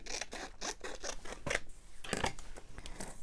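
Scissors trim paper in a craft session, a quick series of close, crisp snips and slicing cuts in an irregular rhythm, fairly quiet, with no one speaking.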